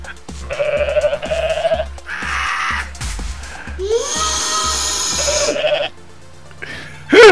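Loud, drawn-out goat bleats from the game Goat Simulator, several wavering cries in a row, close and clear over a steady pattern of dull thumping game sounds.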